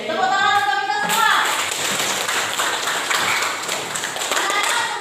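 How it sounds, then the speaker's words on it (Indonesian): Schoolchildren in a classroom clap together after a brief spoken phrase from a voice at the start, a busy, close patter of many small hands that stays fairly loud and even to the end. "Tepuk tangan untuk kita semua."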